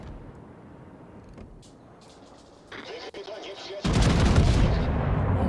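Cruiser guns of HMS Tiger fire in the World of Warships naval video game, a rising rumble that jumps into a heavy sustained roar of salvos and explosions. The sound is loud and continuous, with no talk.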